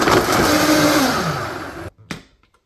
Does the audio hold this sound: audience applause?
no